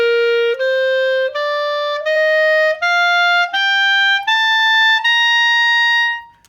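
Clear woodwind notes climbing an ascending scale one step at a time up to high C, about eight sustained tones played alone and loud, ending with a fade.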